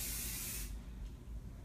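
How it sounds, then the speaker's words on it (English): A spray bottle releases a quick mist of foundation onto a face, one loud close hiss that cuts off abruptly, followed by quiet room tone. "I'm going to be spraying here"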